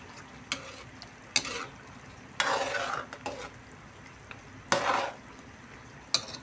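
A spoon stirs chicken caldereta in a pan, making several scraping swishes over a faint sizzle, spaced about a second apart, with no talking.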